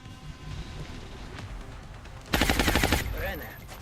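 Burst of heavy alloy cannon gunfire in the XCOM video game, a loud rapid volley of shots lasting under a second over low game ambience.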